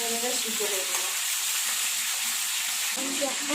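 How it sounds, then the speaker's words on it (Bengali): Vegetables and bori being stirred and fried in a pan give a loud, constant sizzle with scraping stir strokes throughout, and no one speaks. "সব একসঙ্গে দিয়ে কষতে করবো মানে এটা নেড়ে নেড়েই আমি সিদ্ধ করবো"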